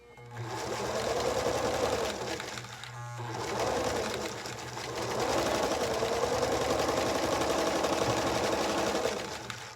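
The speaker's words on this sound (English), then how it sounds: "So I lay these to the side and continue to sew." Sewing machine stitching tiny quilt blocks right sides together, running in three steady rhythmic bursts with a brief pause between runs, close and fairly loud.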